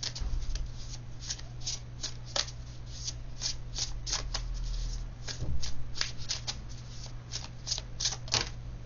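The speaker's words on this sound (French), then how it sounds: "Vous tirez une carte de l'oracle des 7 énergies." Oracle cards riffled and shuffled by hand in a quiet room, a steady run of soft crisp flicks and snaps repeating through the whole span, close and alone with a low hum beneath.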